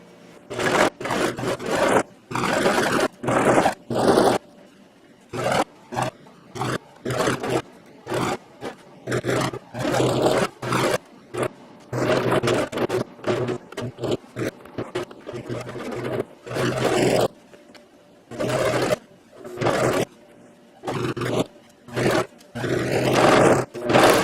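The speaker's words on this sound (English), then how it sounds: "now we're going to take this to the sewing machine, and we are going to sew these two pieces together" A sewing machine stitches two pieces of a homemade jeans purse together in repeated short bursts of loud, buzzy whirring separated by brief pauses, close up and without talk.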